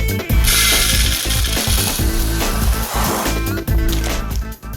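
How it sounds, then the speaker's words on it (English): Tightening the safety screw on an espresso grinder gives a busy run of metallic ratcheting clicks and small mechanical knocks, close and fairly loud, with brief pauses. "Tighten the safety screw."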